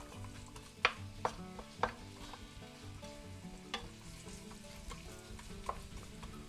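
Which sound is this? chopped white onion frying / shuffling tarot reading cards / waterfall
chopped white onion frying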